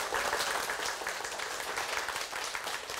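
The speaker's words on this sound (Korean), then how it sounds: "내 집 마련하고 싶은 열광 한번 박수 한번 쳐주세요." A studio audience at a televised Korean lecture on buying a home claps steadily and densely, a loud, even wash of applause throughout with no speech over it.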